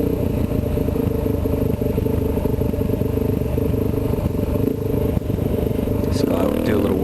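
A Kawasaki KLX dirt bike rides a trail with its engine droning steadily and loudly up close, mixed with rumbling wind and clatter, and a brief higher whine near the end.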